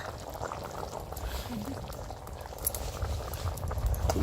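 Ganike greens are added to cooked lentil sambar bubbling in a pot, giving soft continuous boiling and liquid burbling with a few small splashes, fairly faint, under a speaking voice.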